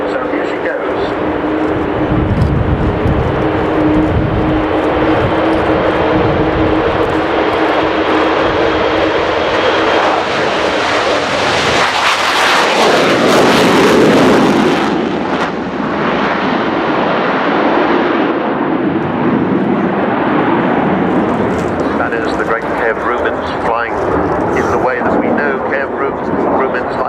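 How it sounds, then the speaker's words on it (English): An Avro Vulcan B2 jet bomber, XH558, roars past at an air show, its four Rolls-Royce Bristol Olympus 202 engines giving a loud, sustained rumbling thunder that swells to a peak and then fades, with crowd voices underneath. "The sound of 4 Rolls-Royce Bristol Olympus 202 engines"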